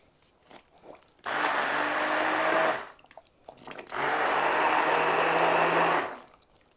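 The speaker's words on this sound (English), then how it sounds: "a hand blender, whichever one you want. And you're gonna blitz this, mixing it all up." A hand blender purees whole tomatoes, seeds and skins included, for passata, running in two steady, loud bursts of about one and a half and two and a half seconds, separated by a brief pause with quiet handling noises.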